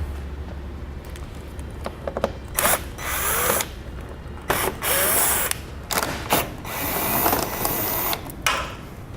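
A ratchet removing 7mm screws from the front fascia of a 2015 Chevrolet, loud close clicking in several short bursts separated by brief pauses.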